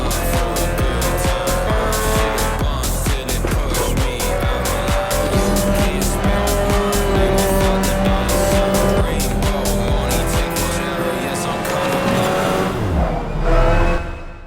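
A sim racing game car screams past at full throttle, its loud engine note rising and falling through gear changes while tires squeal and skid, ending in a brief descending whine.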